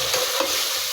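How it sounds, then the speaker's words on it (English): Curry leaves, ginger garlic paste and spices frying in a pan, a continuous close hiss and crackle with light stirring scrapes, no speech. "Fry all ingredients very well."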